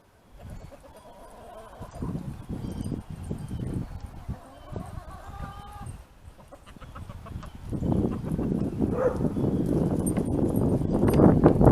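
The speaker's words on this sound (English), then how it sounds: "And there's my chickens." Chickens cluck and murmur nearby, with scattered scratching and movement noises; the flock grows busier and louder toward the end.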